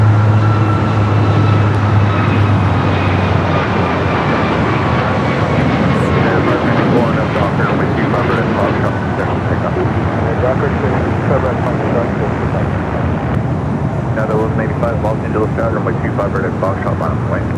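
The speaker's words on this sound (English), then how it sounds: "our next takeoff here on the south side. United Airlines flight 1912 heading to Denver. Another 737" United Airlines Boeing 737 MAX 9 taking off at Los Angeles airport, a loud sustained jet engine roar with a rising whine that holds steady and then broadens as the aircraft climbs away.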